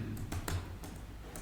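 Computer keyboard keys tapped while writing code, a few quick clustered clicks close up with brief pauses, no talking.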